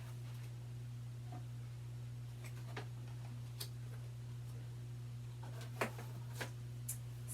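Faint, sparse ticks of a clock over a steady low hum, with irregular soft clicks scattered through a quiet room.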